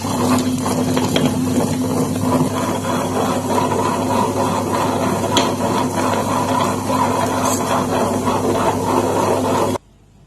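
Wet grinder churning urad dal batter with rock salt added, a steady loud mechanical whirring and clattering drone that runs continuously, then cuts off abruptly at the end.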